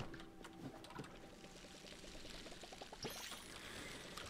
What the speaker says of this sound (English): I gotta water these.